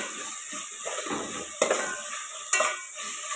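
Coriander and mint fry in a pan for bagara rice, a low steady sizzle with two sharp metallic scrapes of a spoon against the pan, no voices.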